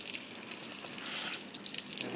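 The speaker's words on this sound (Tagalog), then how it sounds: "Ang talsikan pala ng tubig" Water splashes and gushes steadily in a garden, a continuous bright hiss of spray with small irregular splatters throughout, fairly close and without talk.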